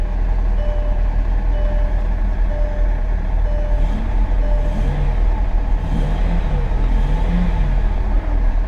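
A Mercedes S600 V12 engine idles steadily after starting, a loud, constant low rumble with a faint tonal hum and some light warbling sounds over it.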